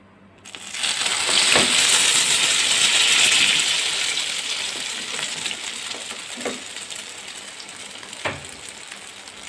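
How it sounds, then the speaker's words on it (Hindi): Batter-coated bread slices frying in hot oil in a pan for sweet toast, a loud steady sizzle that swells early and then settles, with a few soft clicks and knocks from utensils near the end. "चलिए जी, अब हमने जो बैटर इस पे लगाया है, लगाकर इसको हमने फ्राई कर लेना है।"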